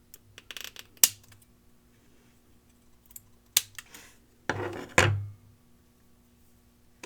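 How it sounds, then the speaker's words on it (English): Bandage scissors trim plastic parts of an electric shaver: a few sharp, close snips spaced several seconds apart, with small handling clicks and quiet pauses between them. "slim them down a little bit using these bandage scissors"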